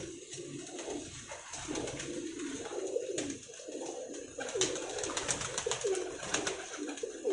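Pigeons coo continuously at close range, several birds overlapping in low murmuring calls, with occasional faint wing flutters among Pakistani flying pigeons kept by fanciers.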